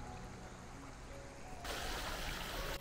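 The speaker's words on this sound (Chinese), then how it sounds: "刚刚看到的清澈的小溪，就是流向前面的水塘了。" A clear stream flows toward a pond in a park, a steady close wash of running water that swells louder and brighter partway through, with no voices.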